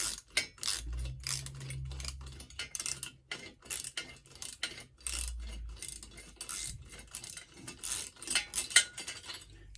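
A ratchet wrench tightens a retro headlight mount onto a bicycle, giving repeated close, crisp clicking bursts with short pauses between strokes and a few low thumps, with no talking.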